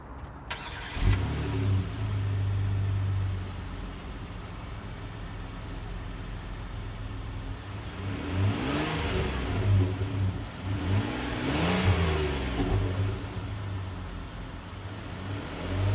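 A 2018 Kia Sedona minivan engine starts by push-button ignition: a sharp crank catches, then a steady mid-pitched idle follows, with two soft rev swells later on, heard alone without speech.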